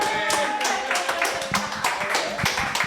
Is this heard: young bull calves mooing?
no